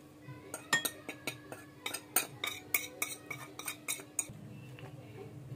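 Potatoes being mixed with salt and spices in a bowl: a utensil clinks and scrapes against the bowl in a quick, irregular series of close, bright taps.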